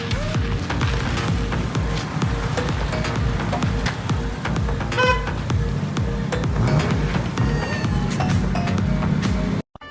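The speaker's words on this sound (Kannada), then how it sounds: "ಇವಾಗ ಎಲ್ಲ ಗಾಡಿಗಳು ಹೊರಡ್ತಿದ್ದಾವೆ." Modified cars pull away from a car meet with a dense, continuous rumble of engines up close, broken by repeated short horn toots and scattered voices until the sound cuts off abruptly.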